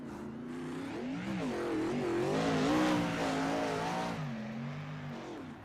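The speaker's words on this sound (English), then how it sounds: "Here's Bailey Barnacote on the racetrack right now." A 360 wingless sprint car races around the Lernerville track, its engine note rising and falling steadily as it powers through the turns, loud and continuous throughout.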